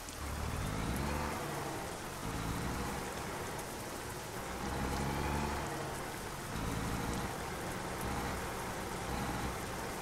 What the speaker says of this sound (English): it's raining, holy crap